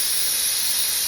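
A pressure cooker whistle releases steam in a continuous loud hiss, steady and unbroken, close to the listener with no other sounds.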